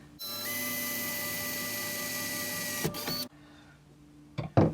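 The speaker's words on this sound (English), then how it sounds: "So we've drilled that hole" A power drill whines steadily for about three seconds as it bores a hole in the body of a T5/T6 camper van, then stops with a clunk. A quieter hum and a few knocks follow.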